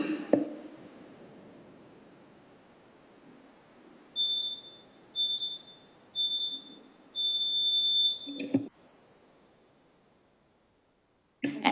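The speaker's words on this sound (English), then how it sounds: "Once you hear the beeps, then we're happy to hear from you." Four high electronic beeps at a council meeting sound in a row over faint room hiss, the last one held longer, each cutting off cleanly, followed by a brief knock.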